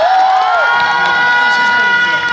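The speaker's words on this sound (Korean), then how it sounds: "박수 한 번만 부탁드릴게요." Loud, sustained cheering and shouting from a studio crowd of fans at a televised K-pop music show recording, with high, drawn-out voices over a constant crowd wash and little distinct clapping.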